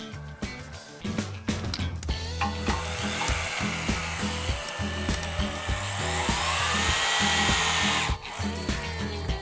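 Pneumatic impact wrench driving and tightening a structural steel bolt during a tension test, a loud sustained rattling hammer with sharp repeated impacts running nearly the whole stretch, cutting off near the end.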